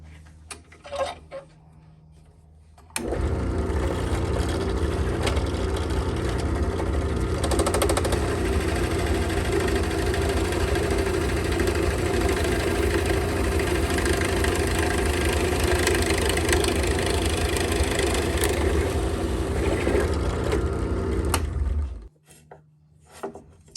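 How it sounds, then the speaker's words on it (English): A steady, loud drill drone runs for about twenty seconds with a grinding, rubbing texture while boring a hole in wood, then stops abruptly, with quieter shop noise before and after. "it's gonna drill the front hole, and then I'll have to move it and drill the back hole"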